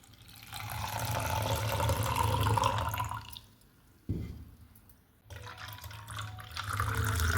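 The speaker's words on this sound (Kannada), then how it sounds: "ಸ್ವಲ್ಪ ನೀರು ಹಾಕ್ಬಿಟ್ಟು ಈಗ ಇದನ್ನು ಸೋಸ್ಕೊಳ್ಳೋಣ ಒಂದಕ್ಕೆ" Ground ginger, mint and jaggery juice mixed with water is strained, a soft wet pouring and trickling that fades to near quiet, stops abruptly, then resumes, with no talking.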